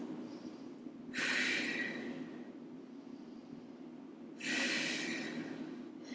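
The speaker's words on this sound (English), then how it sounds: "2 big breaths." Two deep, slow breaths during a yoga mat class, each a long breathy rush about a second long, close and clear, with a quiet pause between them and no talking.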